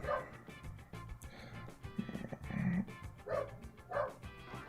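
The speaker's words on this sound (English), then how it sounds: "Don't worry, my dog will shut up in a minute," A pet dog barks and yips in short bursts over the course of a few seconds, fairly close by and moderately loud, with a muffled, indoor quality and no speech over it.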